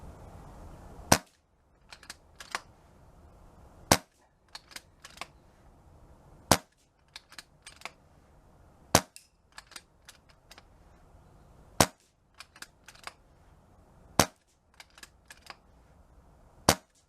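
Air rifle shots firing Air Arms 16 grain pellets at a farm field test: sharp, close cracks at regular intervals of roughly two to three seconds, each followed by fainter clicks and ticks of cocking and loading.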